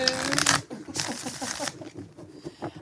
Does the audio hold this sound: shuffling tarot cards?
yes